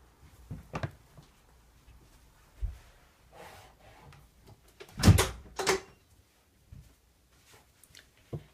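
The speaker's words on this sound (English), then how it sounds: "Somebody's smoking outside, so I want to shut the door." A door is pushed shut indoors with one firm thud partway through, set among a few faint softer knocks and rustles in an otherwise quiet room.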